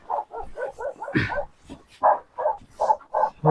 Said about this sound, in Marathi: तिथं आल्यावरती आपण बघितलं हे कुत्रे आहेत